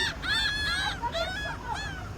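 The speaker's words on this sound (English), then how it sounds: "They're noisy birds, whatever they are." Geese honking noisily at close range, several loud nasal calls in quick succession over about two seconds, with no talk.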